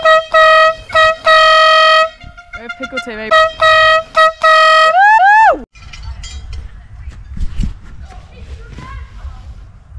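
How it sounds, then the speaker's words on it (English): Several loud, near air horn blasts sound in short bursts, then one wavering, sputtering honk that cuts out, followed by quieter background noise and brief talking. "just did the worst air horn ever."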